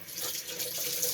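Water runs from a sink tap in a steady, close hiss for about a second.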